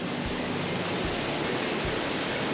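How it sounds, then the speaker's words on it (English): Waterfalls and cascades on a Tennessee mountain creek make a loud, constant broadband rush that stays steady throughout, close by and with no voices. "Waterfall and another set of waterfalls and cascades up there."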